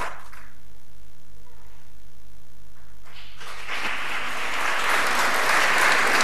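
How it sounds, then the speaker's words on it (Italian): Audience applause at a university ceremony conferring academic caps on new faculty, starting faintly after a near-silent opening and swelling into loud, sustained clapping across a hall over the last three seconds. "Applausi."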